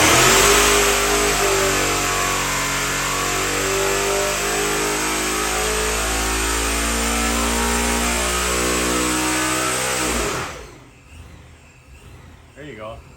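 Freshly built Ford 363 small-block V8 with a new Procharger F1A-94 supercharger roars on a dyno, holding a loud, sustained high-rpm pull for about ten seconds before cutting off abruptly into quiet room noise.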